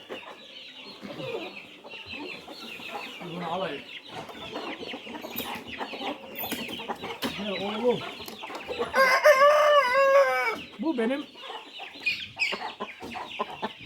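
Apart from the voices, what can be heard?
roosters clucking and crowing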